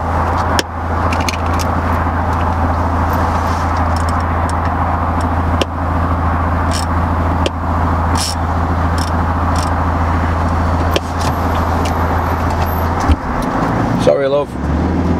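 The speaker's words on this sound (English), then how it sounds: "Let me stop this bus." A bus engine idles with a steady low drone and faint traffic behind it as the bus comes to a halt, followed near the end by a brief shift in the engine note. A voice speaks over it.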